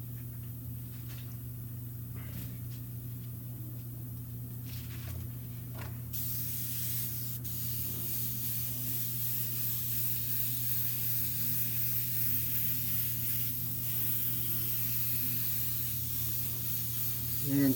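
An airbrush sprays dark blue paint in a steady hiss over a low background hum, with a few soft clicks early on.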